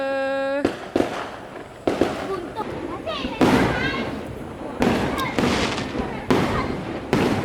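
Fireworks set off during Eid celebrations: a string of sharp, loud bangs and crackling bursts at irregular intervals, close and echoing, with voices shouting excitedly between them.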